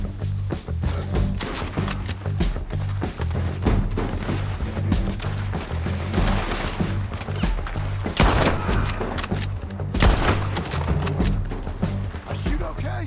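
Rapid gunfire bursts and heavy shots in a Red Dead Redemption 2 shootout, loud and sustained across the scene with booming impacts, while voices talk over the action.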